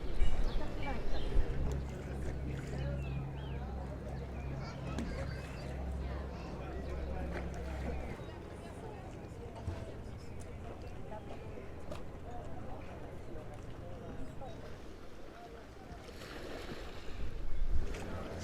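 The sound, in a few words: boat moving on harbor water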